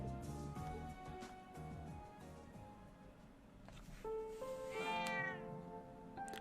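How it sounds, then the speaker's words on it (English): A mother cat meows in the video game Trails of Cold Steel 2, several clear, tonal meows rising and falling over a busy musical game soundtrack, with a louder drawn-out call near the end. "searched for the missing mother cat"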